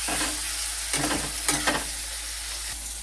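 Onions and tomatoes sizzle in a pan for a katla fish curry, under a steady frying hiss broken by several sharp stirring clatters, and nobody speaks.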